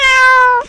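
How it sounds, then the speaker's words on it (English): A domestic cat gives one loud, close, drawn-out meow that holds steady and then tapers off at the end. "Cat."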